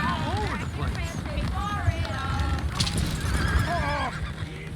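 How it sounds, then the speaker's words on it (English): Horses neighing and whinnying in the Red Dead Redemption video game around the town of Valentine, several rising and falling whinnies over loud, constant rumbling commotion, with people talking throughout. "Oh, shit, the horses!"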